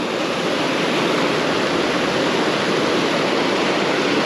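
Small waterfalls and pockets on a trout river rush in a dense, steady broadband roar, close and constant, with no voices over the water.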